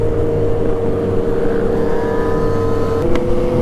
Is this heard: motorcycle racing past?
yes